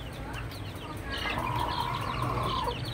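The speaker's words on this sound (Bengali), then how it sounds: "শতভাগ অরিজিনাল একটা জাতের ফার্মি মুরগি" Fayoumi or Australorp chicks and hens on a Bangladeshi poultry farm, a busy mix of clucks and chirps with one drawn-out call near the middle, steady and fairly loud over a constant farmyard background.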